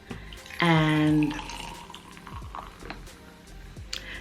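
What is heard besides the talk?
pouring a drink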